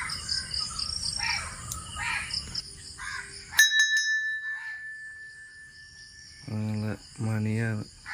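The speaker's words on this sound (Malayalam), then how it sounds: "മണിയാണ്." A bright metallic bell is struck once at a home in Kerala and rings out with a long fading tone, among chirping insects and birds, followed by two louder, buzzy bird-like calls close by.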